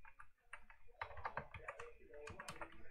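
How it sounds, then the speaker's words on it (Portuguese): Someone types a name on a computer keyboard while playing the game Defender, producing quick bursts of close, crisp key clicks in an uneven rhythm that grows busier toward the end. "Digite seu nome e tecle enter."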